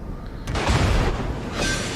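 Naval gunfire and a shell explosion in World of Warships: a loud, broad boom with a rumbling tail, then a second burst near the end.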